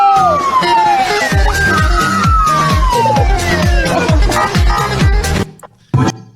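A loud police siren wails in repeated falling sweeps over a pulsing rhythmic backing, continuous for about five seconds before cutting out, with one short burst near the end.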